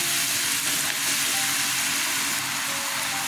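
Sponge gourd frying in a pan, a loud, dense, continuous sizzle that holds steady without a break.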